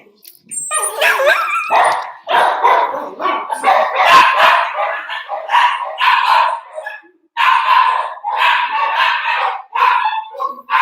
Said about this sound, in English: There is this little yippy dog that has the most